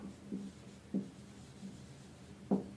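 Marker or chalk strokes on a board during a geometry lesson on symmetry and diagonals, soft scratchy taps recurring every second or so, fairly faint and close with no speech over them.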